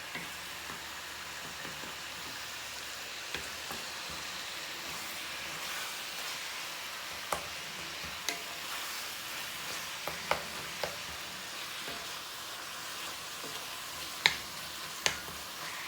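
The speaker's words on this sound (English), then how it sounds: "just let that ground beef brown up good" Seasoned ground beef browning in a pan for a taco-style filling, giving a faint, steady sizzle broken by scattered sharp ticks and spatula taps.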